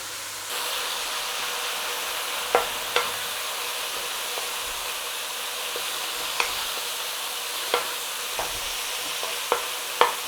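Minced beef sizzles steadily in a frying pan on the hob, a constant bright hiss punctuated by occasional scrapes and taps as the meat is stirred and turned over, with no one speaking.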